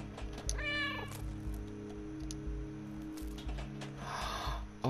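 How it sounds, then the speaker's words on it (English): A cat meows repeatedly in the video game Stray, several short plaintive calls spread over a low ambient game background with faint mechanical hum. "The meows are supposed to tell us where to go."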